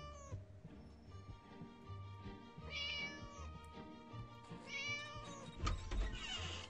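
A cat meows in the Scary Teacher video game, its cries rising over a busy background of game music with a low rhythmic pulse and tonal chimes, no talking.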